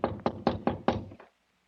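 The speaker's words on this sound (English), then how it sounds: "I walked up the stairs and knocked on the front door" Five firm knocks on a front door in an old-time 1940s radio mystery drama, evenly spaced hollow raps, close and loud, followed by silence.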